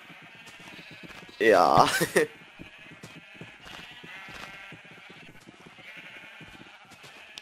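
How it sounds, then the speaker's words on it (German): A single loud Minecraft sheep bleat bursts out for under a second amid quieter game sounds, while a person talks in the background. "Henning sein halber Garten ist voll mit Schafen"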